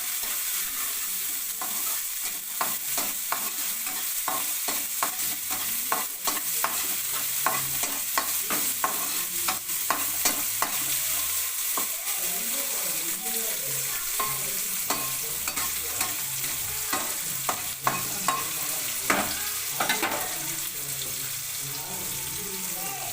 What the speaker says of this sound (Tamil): பச்சை மிளகாய் போட்டுக்கலாம் தேவையான அளவு அப்படியே வெங்காயம் போட்டுக்கலாம்